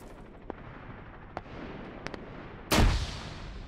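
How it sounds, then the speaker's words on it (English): Sporadic distant gunshots crackle in an Arma 3 King of the Hill battle before a nearby grenade blast booms loudly near the end, its rumble trailing off. "Those grenades are a bit close as well."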